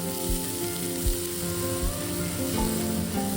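Sweet corn sizzles and fries in a pan for creamy veg pasta, a steady close crackle that runs throughout with a few louder pops and light stirring knocks, and no voices.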